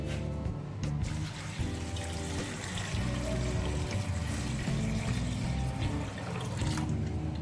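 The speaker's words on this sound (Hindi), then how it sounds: "तकरीबन 1 लीटर के करीब हम इसमें पानी ऐड करेंगे" About a litre of water is poured into a pot of spiced white chickpea curry, making a continuous soft splashing and trickling that stays fairly quiet and steady throughout, with no talking.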